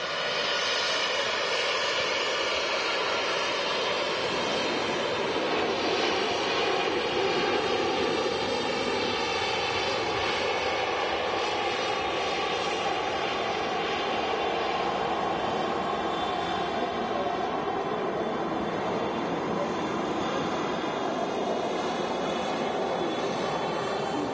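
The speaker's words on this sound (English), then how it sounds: "EasyJet's heading off to Munich now. Rolling down the runway." An EasyJet airliner rolls down runway 05L at Manchester Airport on its takeoff run, a steady loud roar of jet engines that holds constant throughout, broad and rumbling with a faint whine on top.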